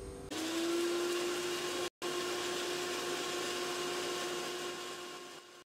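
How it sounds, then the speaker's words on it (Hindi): Electric kitchen grinder whirring steadily as it grinds dry citric acid crystals for homemade chaat masala, a loud continuous motor drone with a brief stop midway before running on and slowly easing off. "अब हम टाटरी को ग्राइंड कर लेते हैं।"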